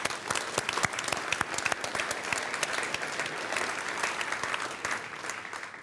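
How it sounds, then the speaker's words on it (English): An audience at a world affairs lecture bursts into sustained, dense applause, with many hands clapping steadily and evenly, fairly full but at moderate distance, with no speech over it. "I think we should applaud him because he's a Michigander"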